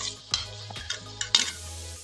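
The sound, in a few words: masala and tomatoes stirred with water, cooking in pan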